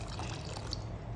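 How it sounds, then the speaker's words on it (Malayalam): Half a glass of water poured into a pan while cooking a Kerala fish peera, a brief, steady wet trickle and splash close by, alone without talk. "അതിനുശേഷം ഒരു 1/2 ഗ്ലാസ് വെള്ളം ഒഴിക്കുന്നു."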